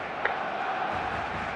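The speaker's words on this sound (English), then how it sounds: "The stadium is full of noise and energy." A full stadium crowd in the eFootball 2026 video game makes a steady, dense roar of massed voices that holds at an even level throughout.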